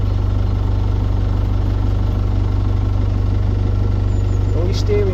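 Canal boat engine slowed right down to tick over, a steady low chugging idle with a regular pulse that holds loud and even throughout, close by.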